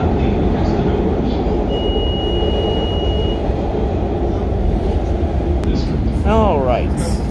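A Chicago Blue Line metro train rumbles steadily from inside the car, with a faint brief tone and some squealing near the end while a recorded announcement plays over the ride noise.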